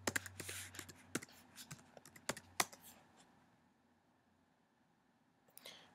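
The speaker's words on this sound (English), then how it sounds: "Make sure you type it in right." Computer keyboard keys are typed in quick irregular bursts of sharp clicks, close by, then a quieter pause with faint rustling before a final few taps.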